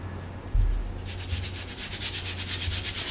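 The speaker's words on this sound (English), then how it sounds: "I'm going to be using my fingertips, or if you have a pastry blender, you can use that to break the butter into the flour" Cold butter is rubbed into flour by fingertips while making a crunchy ginger kurma dough. A soft, gritty rubbing sounds in quick repeated close strokes, with no talking.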